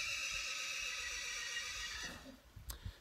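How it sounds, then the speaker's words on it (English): An angry horse lets out a long, loud whinny nearby outdoors, wavering for about two seconds before trailing off, followed by a few faint thumps. "that's an angry horse just behind me there"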